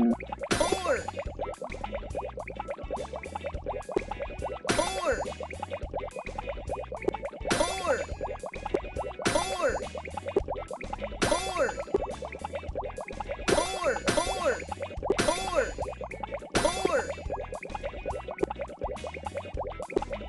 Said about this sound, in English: Pop all the bubbles with the number